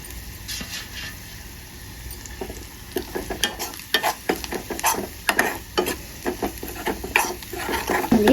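Omelette mixture with coriander fries in a pan with a continuous sizzle and a rapid run of clattering stirring strokes that grows busier partway through, close up with no talking.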